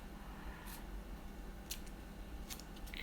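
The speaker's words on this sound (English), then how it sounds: "The scissors ain't working properly either." Scissors cut a Braille label, giving a few quiet, crisp snips spread over about three seconds against a low background hiss, close up and faint, with no talking.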